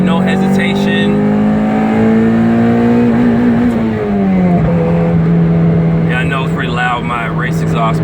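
A Mazda Miata MX-5 race car with a race exhaust pulls through a full second gear, the engine droning loud and close as revs climb smoothly, then dip briefly and hold again, with a voice talking over it.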